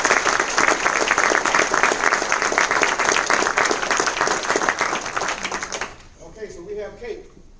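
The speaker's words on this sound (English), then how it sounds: "join me in a round of applause for the staff for putting this great event together" A large audience at a Martin Luther King Jr. observance event gives the event staff a sustained round of applause, dense and even for about six seconds before fading, with a voice speaking afterward.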